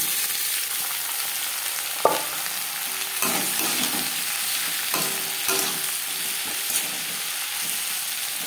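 Chopped onion, tomato and garlic frying lightly in oil in a pan, a steady soft sizzle with occasional knocks and scraping as a spatula stirs the pieces, close and without speech.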